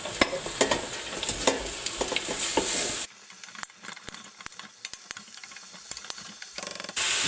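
Onion and five cloves of garlic frying in a pot make a busy sizzle with repeated clicks and scrapes of stirring, then the hiss drops quieter partway through while sharp ticks continue.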